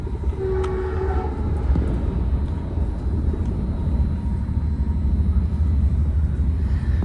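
Interior of a southbound limited-stop Caltrain passing through Hayward Park Station without stopping: a steady, loud low rumble of wheels and rails fills the whole stretch, with a brief tonal horn-like whine near the start.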